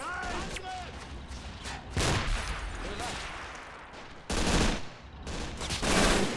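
MG42 machine gun bursts in the World War II strategy game Men of War: Assault Squad 2, with heavy overlapping gunfire and explosive thumps in repeated loud bursts while a voice talks over the battle.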